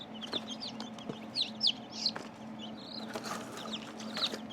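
Chickens cluck and chirp on a large backyard flock farm, several scattered short calls and squawks at moderate distance over a steady low hum, with no talking.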